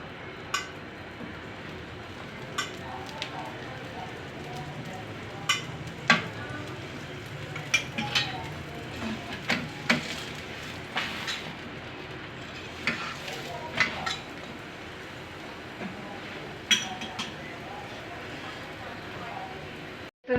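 A paratha brushed with ghee fries on a hot griddle, giving a soft, low sizzle with occasional light clinks and scrapes while a person talks quietly over it.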